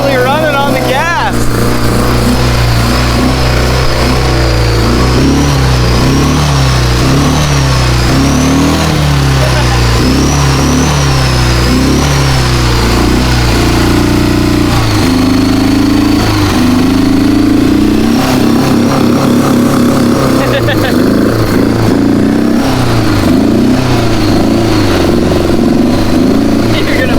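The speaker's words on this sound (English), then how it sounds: "It's actually running on the gas." An old Honda Goldwing motorcycle engine runs continuously up close, loud and steady with rises and falls in revs, while people talk over it.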